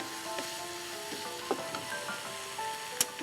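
Cabbage and capsicum sizzle softly in a pan for chicken shawarma, a steady low frying hiss with a few light stirring scrapes and a faint clink.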